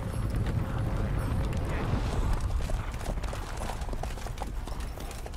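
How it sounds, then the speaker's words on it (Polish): Hooves of a Nilfgaardian war horse in the video game The Witcher 3: Wild Hunt clop along in a fast, dense rhythm, loud and close, with a faint voice underneath. "Nilfgaardzki koń bojowy"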